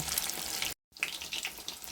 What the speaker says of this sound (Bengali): এটা আস্তে আস্তে ভাজতে হয় সময় নিয়ে